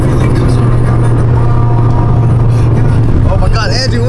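A car drives along with a steady, loud engine drone and road rumble heard from inside the cabin, continuous throughout, with brief higher warbling sounds near the end.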